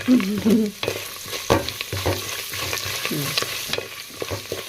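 Garlic being stir-fried in a pan sizzles steadily while a spatula scrapes and knocks against the metal in irregular strokes, up close, with no speech.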